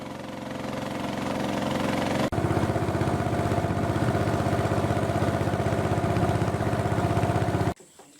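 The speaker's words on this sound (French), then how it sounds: "Nous embarquons sur la pirogue à moteur, étroite et inconfortable" A motorised dugout canoe's engine drones steadily and loudly up close with a fast, even chugging rhythm, jumping slightly in level partway through before cutting off abruptly near the end.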